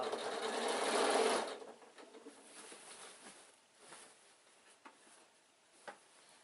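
A sewing machine stitches an insulated picnic bag in a loud, steady run for just over a second, then stops, leaving faint fabric handling and a few soft taps.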